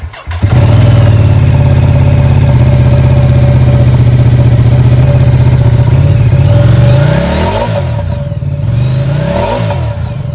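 A 2020 Ducati Diavel 1260 S motorcycle engine fires up with a quick starter burst, then settles into a loud, close, steady idle, rising in pitch with a couple of throttle blips toward the end.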